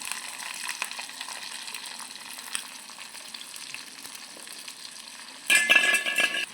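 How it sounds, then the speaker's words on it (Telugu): Green chillies fry with tempering seeds in hot oil in a pan for a taro curry. The close, steady sizzle and crackle swell into a louder burst of frying near the end. "తాలింపు గింజలు మగ్గినాక పచ్చిమిరపకాయలు వేసుకుంటున్నా."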